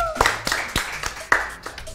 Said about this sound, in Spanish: Aplausos. Aplaudan.